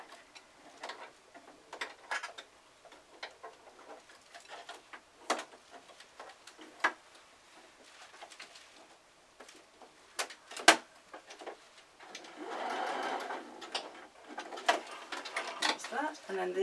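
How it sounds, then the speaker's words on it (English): A domestic sewing machine tacks fabric in short, uneven runs of rapid ticking stitches, with pauses between them and a busier stretch near the end, while someone talks throughout. "I'm just tacking this on my sewing machine so I don't have to pin."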